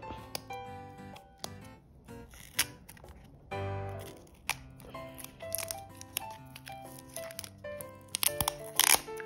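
Close, crinkly tearing and peeling noises with small clicks and rustles, intermittent and fairly quiet, as adhesive tape is pulled off a small Pokémon capsule toy capsule.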